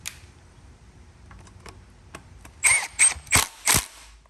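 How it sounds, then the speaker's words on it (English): Ratchet bolting a timing chain guide on an Audi/VW 2.0 TFSI engine: faint taps and small knocks first, then four crisp ratcheting bursts close up, spaced evenly near the end. "And then let me go ahead and bolt it in."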